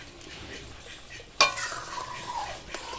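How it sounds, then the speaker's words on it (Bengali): Fried fish drops into a boiling curry on a village clay stove: a low background bubble, then a sudden loud sizzle that hisses on and slowly fades, with a light clink of a utensil near the end. "এবার আমি ভেজে রাখা মাছগুলো দিয়ে দিচ্ছি।"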